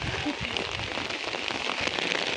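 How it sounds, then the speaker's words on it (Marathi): Continuous light drizzle pattering evenly on surfaces amid fog at Raigad Fort, a soft, dense hiss without pause. "पाऊस काय थांबत नाही एकदम रिमझिम पाऊस"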